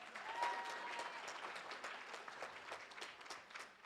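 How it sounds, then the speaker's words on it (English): An audience claps steadily in a dense, sustained round of applause, moderately distant and without voices over it. "Give Sister Intisar a round of applause"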